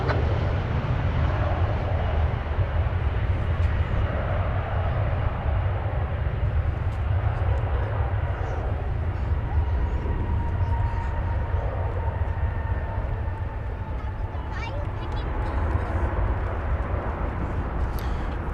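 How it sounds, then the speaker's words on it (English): A distant Airbus A321 airliner on a flight from Las Vegas gives a steady broadband roar of jet engines outdoors at DFW Airport, with a faint whine sweeping across the sound. "that was the flight from Las Vegas we mentioned earlier, flight 2275, an Airbus A321"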